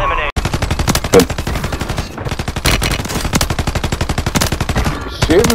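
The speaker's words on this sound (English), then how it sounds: "He's shooting through the gap." Rapid automatic gunfire in the Call of Duty Warzone battle royale on Rebirth Island, loud, dense bursts of shots filling nearly the whole stretch with brief pauses between volleys.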